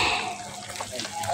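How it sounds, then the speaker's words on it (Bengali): Fish deep frying in plenty of oil in a wok, giving a close, steady bubbling hiss that runs without a break through the short stretch. "সেই ডুবু ডুবু তেলে মাছগুলোকে ভাজি করে নেওয়া হচ্ছে।"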